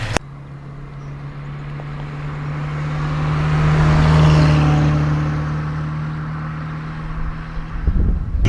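A 1971 Datsun 510 wagon with an upgraded L20 engine revs up steadily from idle, swelling to a loud peak mid-clip before settling back down, with no talking over it.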